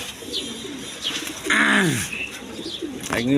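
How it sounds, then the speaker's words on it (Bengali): High flying Giribaj pigeons at a breeder's loft coo in repeated throaty rising-and-falling calls, close and clear, with a few chirps between. "ওই যে দেখেন আরও কবুতর আছে এখানে"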